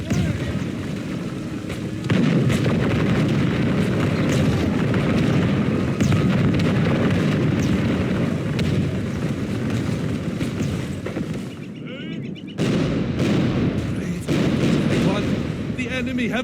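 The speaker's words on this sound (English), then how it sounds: "The volley of a line infantry is satisfying to both watch and listen to, and they even have fire by rank here" Line infantry firing musket volleys by rank in the Total War Lucium mod, repeated loud crackling bursts of massed gunfire with booming echoes, one rank after another, under a steady battle din and some talk.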